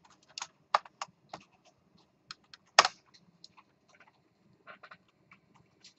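Keystrokes on a computer keyboard during a programming lecture: irregular, crisp clicks in short bursts with pauses, one sharper heavier key hit partway, close and moderately quiet.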